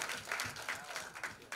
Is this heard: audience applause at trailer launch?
yes